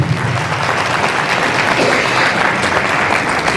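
Worshippers at a Punjabi church sermon clap hard and fast, a loud, continuous burst of congregational applause filling the room.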